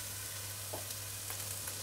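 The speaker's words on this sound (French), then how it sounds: "on va un tout petit peu faire roussir aussi nos épices" Ginger, garlic and massalé spice mix fry in a pan for a shrimp and coconut milk curry, a faint, even sizzle with a couple of soft stirring ticks and no voices.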